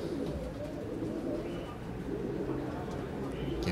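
Racing pigeons at a competition loft in Volos coo steadily in a dense, continuous flock murmur, close and moderately loud throughout with no clear talk.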